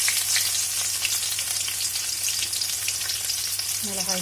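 Chilies sizzling in hot groundnut or coconut oil in a pan while making potato bonda, a steady loud frying hiss throughout, close up with no talking.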